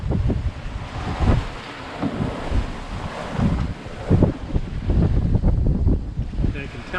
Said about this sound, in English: the waves never look as big as they actually are